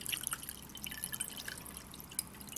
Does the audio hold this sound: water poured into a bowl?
yes